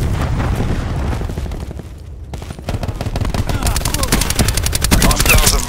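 Cluster grenade explosions and gunfire erupt in a gunship combat video game: heavy booms and crackling shots first, a brief lull, then a rapid, steady rattle of automatic fire that grows louder and closer toward the end.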